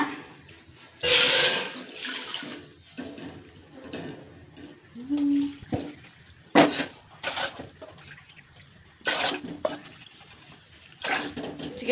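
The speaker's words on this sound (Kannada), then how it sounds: "ಈಗ ನಾಲ್ಕು ಕಪ್ ಆಗೋಷ್ಟು ನೀರು ಹಾಕ್ಕೊಳ್ಳೋಣ" Water gushes briefly into a cooking pot, about four cups, followed by quieter splashes and intermittent clatter against a constant high background whine.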